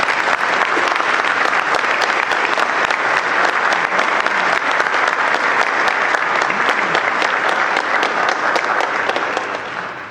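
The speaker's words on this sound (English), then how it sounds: "Let's give them all a round of applause," An audience at a school's Veterans Day celebration claps loudly and steadily for about ten seconds, a dense continuous applause from a large indoor crowd that tapers slightly at the end.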